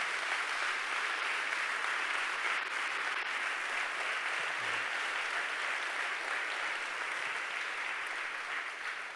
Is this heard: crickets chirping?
no